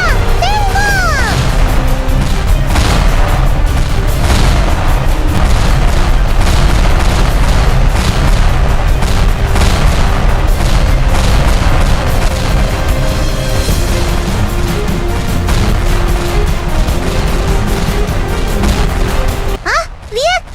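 Dense, continuous bursts of Sakura School Simulator gunfire and booming blasts fill the clip, loud and relentless, with music and effects layered underneath until a brief drop at the end.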